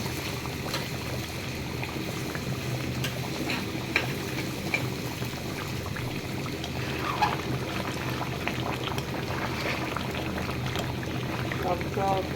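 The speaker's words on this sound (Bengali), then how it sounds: "ফুটতে থাক, নামায় ফেলবো।" Olive pickle in mustard oil bubbling steadily in a pot, a continuous close boiling burble with occasional faint clinks.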